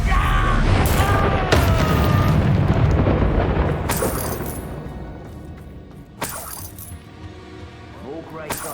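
A Confringo spell goes off in Hogwarts Legacy, giving loud bursts and crackling booms with bright impact transients, followed by a quieter tail and a few more sharp hits near the end.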